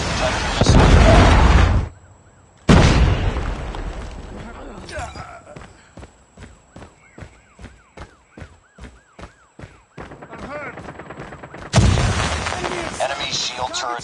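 Predator missile strikes and gunfire in a Call of Duty multiplayer match: loud blasts open and close the stretch, with a fast run of sharp rhythmic shots between and game voice callouts over the action.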